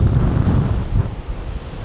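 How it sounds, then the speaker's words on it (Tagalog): Strong whistling wind buffets the microphone in a loud, continuous roar with gusty surges and no talking, at a camp in Pagudpud, Ilocos Norte. "Sumisipol yung hangin dito"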